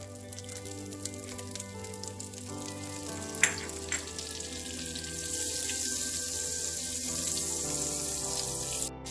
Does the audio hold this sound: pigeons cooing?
no